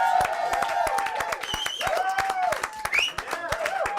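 A studio audience at a televised music performance applauds for the band's drummer, a dense, steady patter of clapping and some cheering with a voice speaking over it.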